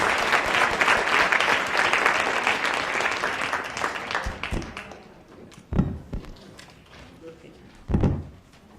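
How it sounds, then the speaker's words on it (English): Audience applause for panelists at a forum on ending the incarceration of women and girls, loud and sustained for about five seconds, then thinning into scattered claps, thumps and a few voices. "I need you guys to give a round of applause to our amazing sisters in the movement again"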